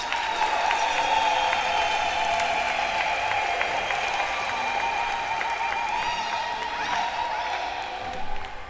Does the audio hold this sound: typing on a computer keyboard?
no